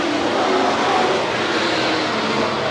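Race cars roar on the oval at Willamette Speedway as one spins out in turns three and four, a dense, steady engine drone at constant loudness with no clear pass-by peaks.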